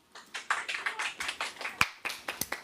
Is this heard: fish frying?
no